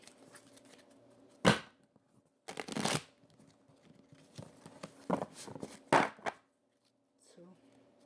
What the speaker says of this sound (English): I'm being told to shuffle 3 times for you.